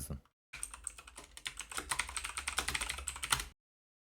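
Rapid, steady typing on a computer keyboard while entering a search into a web browser, dense close keystrokes running for about three seconds between brief silences.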